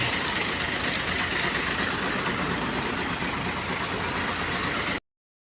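A steady, dense rumble of idling engines from buses in a traffic jam fills the whole stretch, with a faint high whine on top and no talking.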